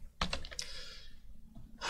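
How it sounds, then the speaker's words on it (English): A handful of quick keystrokes tap on a computer keyboard while typing commands into a terminal, short and faint with a brief pause between clusters. "I can type commands here and do stuff"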